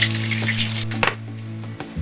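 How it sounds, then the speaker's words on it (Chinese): Scallion, ginger and garlic fry in a wok over low heat, giving a soft steady sizzle with a few light clinks of stirring, with no talk. "现在我们把切好的葱姜蒜放进锅里炒香"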